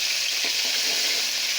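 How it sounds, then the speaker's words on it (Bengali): Ginger paste fries in a pan of cooked spices for a green banana kofta dish, giving a steady close sizzle with faint stirring scrapes and no voices. "আদাটা একটু ভালো করে ভেজে নেব।"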